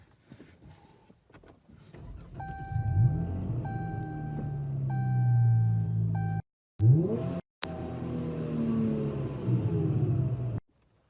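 A supercharged V6 Dodge Challenger SXT engine cranks and starts, then settles into a deep rumbling idle with a few rising revs, recorded close, briefly cutting out twice.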